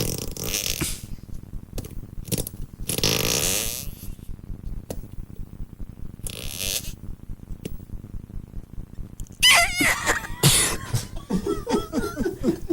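Fart noise sound effects played on a radio talk show come as a series of loud, sputtering bursts, repeated and irregular, filling the stretch with crackly noise and no speech.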